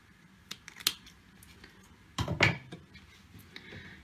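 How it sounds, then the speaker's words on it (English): Scissors snip through macrame thread, a couple of light sharp clicks followed by a louder crunching cut, close up and alone. "take your scissors and cut this bit here"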